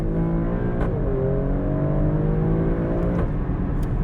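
An Alfa Romeo Stelvio Quadrifoglio in dynamic mode, its engine revving hard with rising and falling pitch sweeps from inside the car, loud and continuous with no talk.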